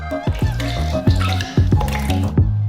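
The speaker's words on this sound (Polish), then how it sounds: "Białka zaczerpujemy za pomocą dzbanka z miarką, a do robota wlewamy dokładnie 300 ml, a do mikserów odmierzamy o połowę mniej" Egg whites poured from a measuring jug into stand mixer bowls, a thick liquid glugging and dripping in repeated pulses with soft splashes, close and steady.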